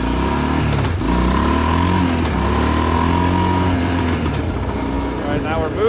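An ATV engine runs steadily and pulls away after the clutch engages, the clutch pack worn, its low droning hum rising slightly in pitch, with someone talking over it.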